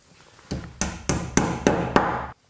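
A hammer taps a wall plug into a brick wall during installation of a reversible air conditioner, six sharp evenly spaced knocks, close and clear, each followed by a short ring, with no talk.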